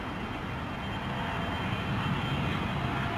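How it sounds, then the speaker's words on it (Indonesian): Airplane sound effect: a steady, broad engine roar of a fixed-wing aircraft, moderately quiet and unbroken, with no voices. "Ya, pesawat."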